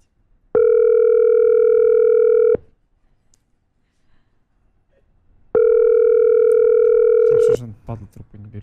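Two long, loud telephone tones of about two seconds each, separated by a silent gap, sound on a call that goes unanswered, with a voice speaking briefly right after the second tone.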